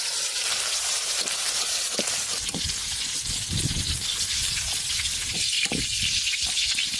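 Eggplant frying in a pan with light salt, giving a steady bright sizzle throughout, broken by a few sharp pops and low thumps as the pieces are moved, near and loud with no speech.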